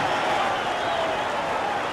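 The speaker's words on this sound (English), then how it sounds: "I'm absolutely deafened by this huge crowd." A huge football crowd roars in celebration after a Cardiff City goal, a broad, dense wall of cheering and clapping heard from within the stands, loud and sustained with a voice faintly mixed in.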